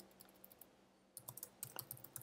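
Quiet typing on a computer keyboard: a few scattered soft keystrokes, then a denser burst of crisp clicks in quick succession, near and alone.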